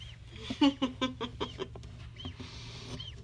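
A goose hatching from its egg in an incubator gives a run of close, high peeping calls in quick succession, fading to softer, scattered peeps.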